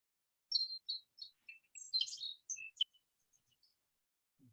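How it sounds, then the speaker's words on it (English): A song sparrow sings a bright, high song of quick separate notes and trills lasting a few seconds, clear against a quiet background. "you'll often hear a song sparrow"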